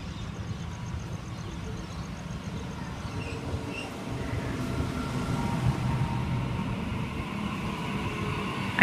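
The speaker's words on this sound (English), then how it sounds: "we have a Waratah arriving into platform 2" Sydney Waratah electric train rolling into platform 2 at Richmond station at night, a steady low rumble of wheels and motors that builds slightly toward the end, with faint high squeals above.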